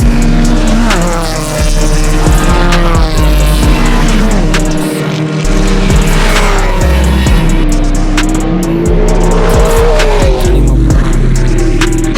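A race car runs on a track, its engine close and loud. The engine note climbs and falls through gear changes, with repeated shifts and throttle lifts across the run.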